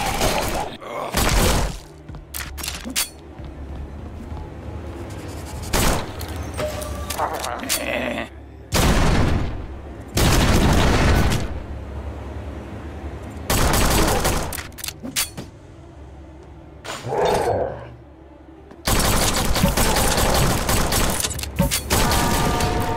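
Gunshots in the video game Forgive Me Father 2 come as loud, booming bursts, some single and some in rapid strings, spaced across the stretch with quieter gaps, crashes and mechanical clanks between them.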